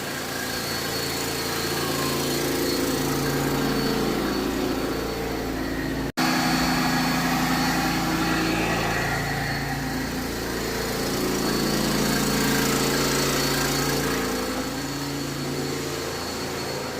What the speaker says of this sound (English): I'm in the process of scrubbing and cleaning this tile floor.